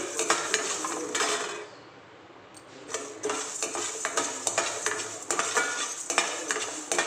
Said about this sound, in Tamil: கடலைப்பருப்பை வறுத்துக்கிடுவோம். உளுந்தம்பருப்பையும் வறுத்துருவோம்.